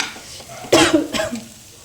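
A person gives a sharp cough, then a shorter second one, over the stirring and sizzling of a home kitchen cooking fish curry, fried fish, payasam and potato curry.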